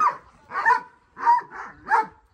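A dog barks five times in close succession, loud and near, in short bursts with brief gaps, with no voices over it.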